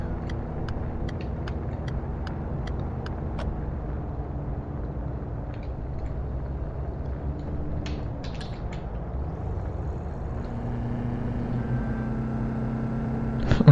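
Suzuki Liana engine at full throttle in fifth gear in City Car Driving, a steady droning hum that holds for a long stretch, with a few faint clicks and a rising note near the end.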